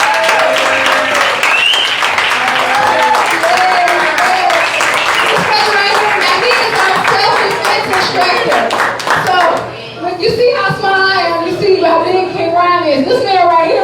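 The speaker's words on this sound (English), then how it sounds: "Y'all give a round of applause." A crowd at the Kings & Queens Ball awards ceremony claps loudly and steadily while voices and cheering mix in throughout, with talking becoming more prominent as the clapping eases near the end.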